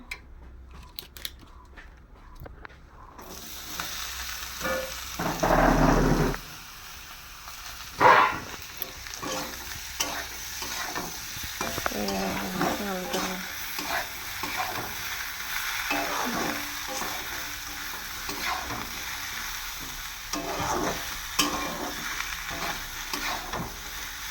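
Potatoes frying in a pan, a soft continuous sizzle with intermittent stirring scrapes and clatter, plus a brief louder burst of noise early on and occasional faint background sounds.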